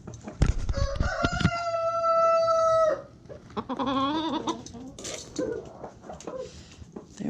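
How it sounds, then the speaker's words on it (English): Backyard chickens, including a rooster, make a close burst of cackling and clucking, then a long drawn-out crow, followed by more squawks and uneven calls from the flock, with a few soft voices nearby. "he is the least aggressive of all of our chickens"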